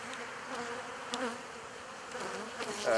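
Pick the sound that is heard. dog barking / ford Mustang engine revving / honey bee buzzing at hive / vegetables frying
honey bee buzzing at hive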